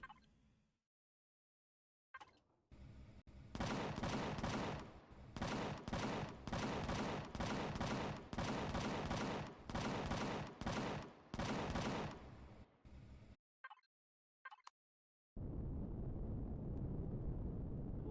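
Ship-mounted turrets in the space game Empyrion fire in long rapid bursts, a dense, loud rattling stream of shots broken by short pauses, then a steady roar of engine or ambient noise after they stop.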